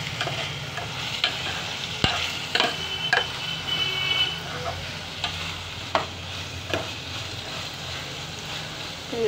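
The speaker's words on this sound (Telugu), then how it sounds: "చూడండి వంకాయ ముక్కలు వేస్తున్నాం" Brinjal pieces frying in a pan, a steady quiet sizzle with scattered stirring clinks and scrapes throughout.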